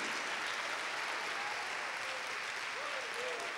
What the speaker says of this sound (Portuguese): Você gostaria de aplaudi-lo?